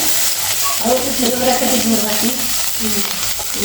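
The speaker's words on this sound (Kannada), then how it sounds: "ಬೆಳ್ಳುಳ್ಳಿ ಎಲ್ಲ ಫ್ರೈ ಮಾಡ್ಕೋಬೇಕು" Ginger and garlic frying in a pan while making veg momos: a continuous loud sizzle with stirring sounds and faint talk in the background.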